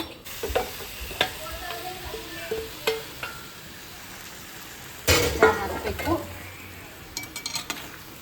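Boiled Maggi noodles frying in a pan and being stirred, with a soft sizzle under scattered scrapes and clinks of a spoon on metal and one louder rustling burst partway through, close, with faint speech in the background.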